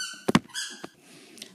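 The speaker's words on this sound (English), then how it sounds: "Pardon my dog and his squeaky toy." A dog works a squeaky toy indoors, producing a few sharp, close squeaks in quick succession followed by a fainter one, with no talking.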